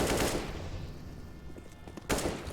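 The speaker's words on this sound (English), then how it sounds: "That's a good frag there from JW" Gunfire in a competitive Counter-Strike esports match between Dignitas and fnatic, heard as dense bursts of rapid shots at the start and again near the end, loud and busy, with a quieter stretch between.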